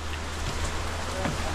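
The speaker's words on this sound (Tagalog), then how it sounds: "Kaso ang lakas ng ulan eh." Heavy rain pours steadily in a tropical outdoor setting, a dense continuous hiss of drops on surfaces with a low rumble underneath, no voices.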